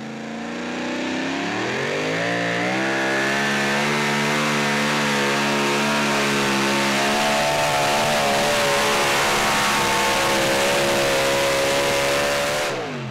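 An unlimited super stock pulling truck roars at full throttle down a dirt track at a Saluda, South Carolina tractor pull, its engine pitch climbing steadily as the run builds, loud and continuous until cutting off at the end.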